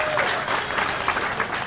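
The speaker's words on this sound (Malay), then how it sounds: "Berikan tepukan yang sangat gemuruh untuk Saudara Afnan." A crowd at an evening campaign rally for the Negeri Sembilan state election claps loudly and continuously for Afnan Hamimi, a dense, even wash of applause with a few cheers mixed in.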